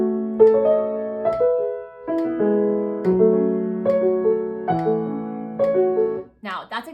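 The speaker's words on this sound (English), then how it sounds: "so you should be able to hear my metronome clicking" Piano triplets are played hurriedly in repeated groups of notes, each group finishing early against a steady metronome click, with a brief voice at the very end.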